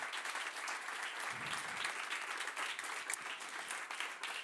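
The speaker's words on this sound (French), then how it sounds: "On vous applaudit." An audience applauds steadily at a French-language presentation event, a dense, even wash of many hands clapping from start to finish with no break.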